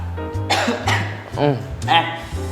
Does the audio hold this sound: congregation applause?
no